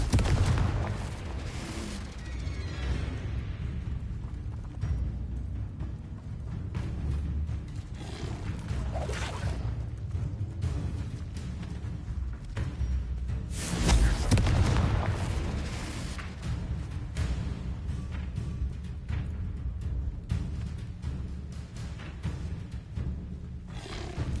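A Confringo explosion spell in the Hogwarts Legacy video game sets off rumbling blasts and roaring bursts over a low game soundscape, with a bigger boom standing out midway through.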